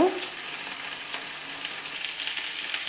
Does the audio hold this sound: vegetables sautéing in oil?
yes